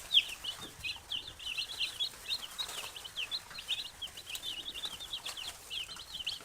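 Baby chicks in a brooder give a steady stream of soft, high peeping chirps. The calls overlap in quick, irregular bursts at a moderate distance, with no other sound competing.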